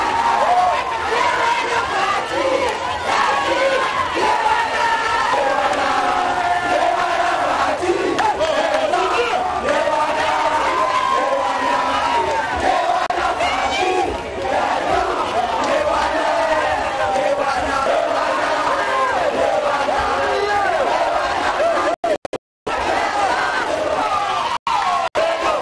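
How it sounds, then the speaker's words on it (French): A jubilant crowd in Mbanza-Ngungu chants and sings while awaiting Tshisekedi, a dense, loud, continuous wall of massed voices and cheering that holds steady throughout, with yells rising above the chant. "surpris par la foule en liesse qui l'attendait, scandant des chants"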